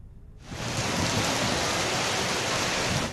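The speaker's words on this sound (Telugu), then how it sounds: "ఎడతెరిపి లేకుండా వర్షం కురుస్తోంది" Heavy, continuous rain during a cyclonic depression: after a brief quieter start it rises into a dense, steady roar of downpour that holds evenly to the end.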